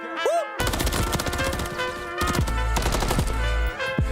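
Rapid AK rifle gunfire from a Call of Duty match, loud bursts of automatic shots with short pauses between volleys, mixed over backing music.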